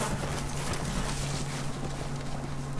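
Horse hooves in a Game of Thrones video game on PS4, a soft, continuous clatter buried under a dense, steady background hum and noise, with no whinny standing out and no talk.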